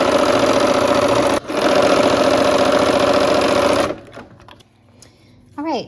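A sewing machine stitches quilt pieces in one loud, continuous whir with a brief hitch, then stops after about four seconds, leaving quieter handling noises and a short voice at the end.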